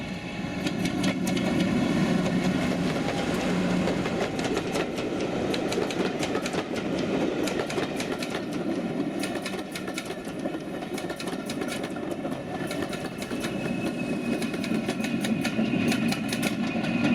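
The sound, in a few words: Class 50 and Class 40 diesel locomotives passing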